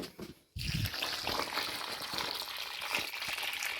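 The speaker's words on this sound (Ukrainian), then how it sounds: "І так, е, лунки зараз заливаю водою." Water pours from a watering can into planting holes for tomato and pepper seedlings: after a brief pause, a steady, soft gushing splash runs continuously at close range.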